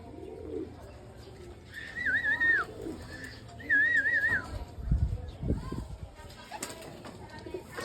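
Racing pigeons arriving at a loft in Cabanatuan, Nueva Ecija, after a 182 km race: nearby coos and whistling calls, with someone speaking and calling out in the background.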